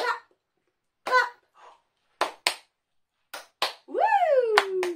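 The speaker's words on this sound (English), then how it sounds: "Clapping my two hands." A toddler's and an adult's hand claps in a nursery-rhyme play session, a few sharp, close slaps spaced irregularly, some in quick pairs, mixed with short vocal calls and a rising cheer.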